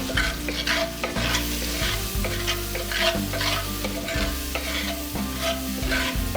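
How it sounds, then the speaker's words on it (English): Garlic and onion sauté in an oiled pan for lamb stew, a close, steady sizzle broken by rhythmic scraping strokes of a spoon stirring through the pan. "I just want that to saute a little bit."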